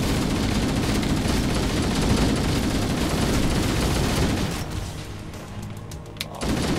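Heavy, continuous weapons fire from robot enemies in Halo Combat Evolved, a sustained burst of rapid shots and blasts that thins out in the last couple of seconds into scattered, quieter pops.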